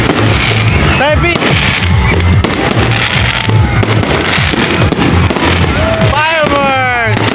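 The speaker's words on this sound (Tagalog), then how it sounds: "Fireworks!" Fireworks burst and crackle continuously, loud and close, with whistling rising streaks and rapid pops over a dense roar, while people shout and talk throughout.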